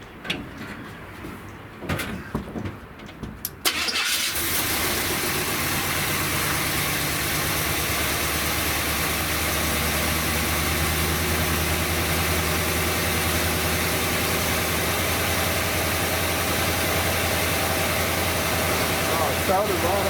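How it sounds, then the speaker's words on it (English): A 1970 Buick Wildcat with a new Quadrajet carburetor cranks briefly with some clunks, then starts right away and holds a steady, loud, even idle close by for the rest of the clip. "Started right off with that new carb on there."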